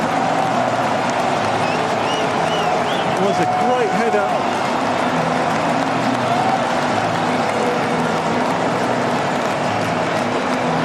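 A stadium crowd at a Poland vs Netherlands football match roars steadily after a headed goal from a corner, a loud, continuous mass of cheering that runs under a commentator's talk.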